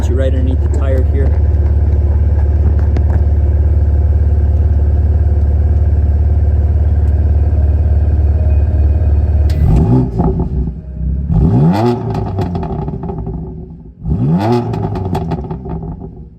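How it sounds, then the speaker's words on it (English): A 2020 BMW M4 Heritage Edition F82 Competition with 444 horsepower and an 8-speed DCT, recorded close at the rear tire: a steady loud idle, then three sharp revs that rise and fall quickly. "I'll get you guys some revs."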